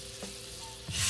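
Thick pork steaks frying in browned butter in a pan: a dense, steady sizzle that swells louder near the end.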